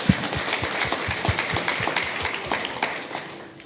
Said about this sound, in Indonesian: tepuk tangan dulu untuk para wisudawan.